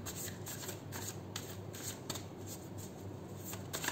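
An Angel and Ancestors oracle card deck is shuffled in three quick riffling bursts, soft papery flicks close by over a faint steady hum, with no voices.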